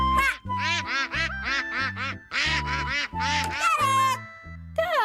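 Cartoon-style duck quacking, about eight nasal quacks in a quick uneven run, loud and close. It may be a voice imitating a duck.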